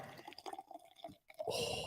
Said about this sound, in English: Are you pouring it in a glass?